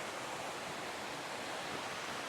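Clean Hobart Rivulet water rushes over and through rocks at a confluence, a steady, dense broadband roar with no breaks, close by and without any voices.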